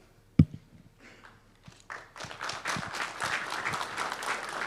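Applause at a fire department service awards ceremony, starting with a sharp knock and scattered claps that swell after two seconds into steady, full clapping from the gathered crowd.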